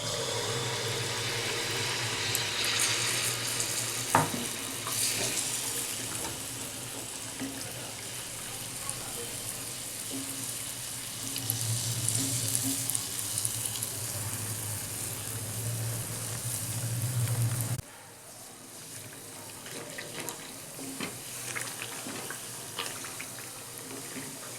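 Pitha batter fries in hot oil on a low gas flame, giving a steady broadband sizzling hiss that keeps going, then drops sharply to a quieter fizz near the end.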